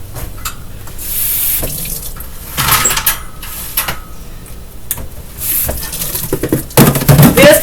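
Water runs from a household tap to refill a dog's bowl, a steady loud close splashing stream with shifting tone as the bowl fills, plus a few clinks and knocks, no talk.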